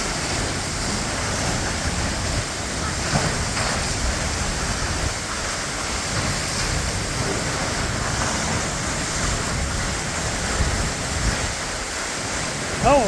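Waterfall water pouring down the cliffs at Perrine Coulee, Idaho, a steady broadband rush that fills the whole clip, close and loud, with wind buffeting the microphone.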